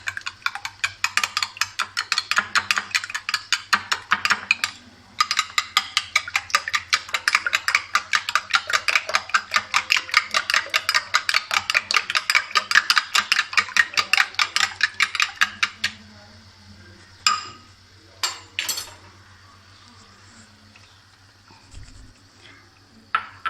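A utensil clinks rapidly and rhythmically against a bowl while mashing yogurt with an egg for egg masala chicken, a long run of quick taps, a brief pause, then more strokes before a few scattered knocks.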